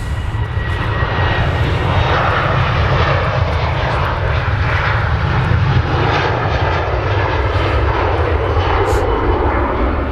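A Virgin airliner departs Manchester Airport bound for the Netherlands, its engines roaring loudly and steadily for the whole stretch in a broad, continuous jet rumble.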